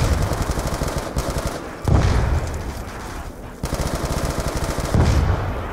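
Rapid bursts of automatic gunfire in a zombies video game, loud and continuous, pausing briefly twice before resuming at a steady rattling rhythm.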